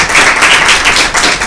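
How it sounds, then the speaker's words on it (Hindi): Close, loud clapping from an audience honouring school prize winners at a Christmas Bible quiz, a brisk burst of many hands with no voices heard. "तो मैं चाहूँगा भरपूर तालियां होनी चाहिए इनके लिए"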